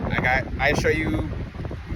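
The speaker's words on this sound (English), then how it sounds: "It's very windy, which is very beautiful." Gusty beach wind buffets the microphone in uneven bursts while a voice speaks over it.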